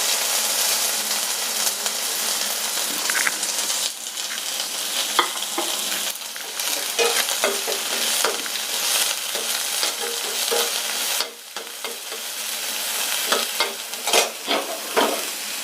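Steady crackling sizzle of onions frying in hot oil for masala dosa, with scraping and clinking of a spoon stirring the pan throughout.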